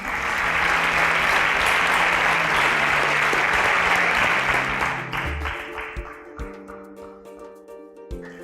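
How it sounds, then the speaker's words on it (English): Loud, dense audience applause at a stage event sweeps along steadily for about five seconds, then thins into scattered individual claps as it fades. "A round of applause to them as they exit the stage."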